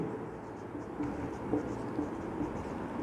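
Marker or chalk writing on a board during a physics lecture, soft faint scratching strokes in short bursts over a quiet room hum.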